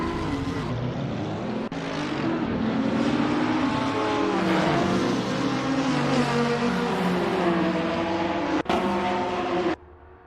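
Race cars in the Assetto Corsa sim on the Nordschleife accelerate together off the start, a dense layered engine roar with rising and shifting pitches that holds loud throughout and cuts off abruptly near the end.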